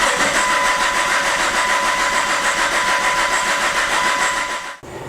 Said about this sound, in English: we're going to spin the engine over